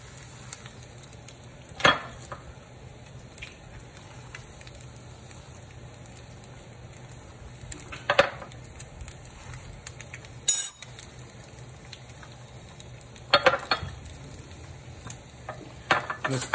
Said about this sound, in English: I'm going to blanch it in boiling salted water.